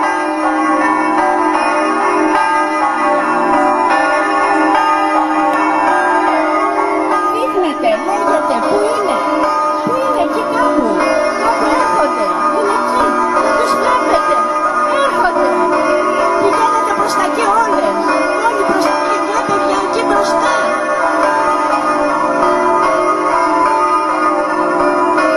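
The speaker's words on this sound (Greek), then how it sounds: "Αυτή τη στιγμή οι καμπάνες ηχούν." Church bells ring continuously during a Venetian-style wedding celebration on Zakynthos, their clanging tones layered over a dense, loud outdoor crowd and ambient bustle.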